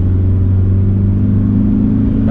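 A Toyota Hilux pickup truck is driven on a highway with a loud, steady engine drone and heavy low rumble throughout, and no voices over it.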